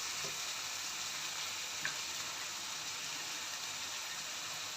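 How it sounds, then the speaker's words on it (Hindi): Garlic, onion and ginger fry in a pan for a kofta curry, giving a steady, close sizzle that holds at an even level throughout with a couple of faint stirring clicks. "अब ये लहसुन प्याज और अदरक को मैंने अच्छी तरह भून लिया है।"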